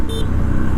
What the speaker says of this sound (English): Sounds like a Triumph horn